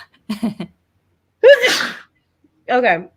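A brief spoken phrase, then one loud nearby sneeze, followed after a pause by another short burst of voice.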